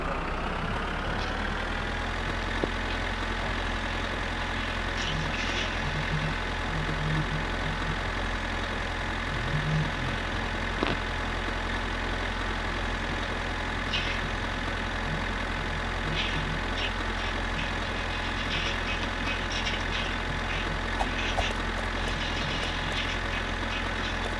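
A bus pulls up in the Roblox game greatest school breakout, a steady loud diesel engine rumble with idling drone and intermittent beeping, continuous throughout with no talk.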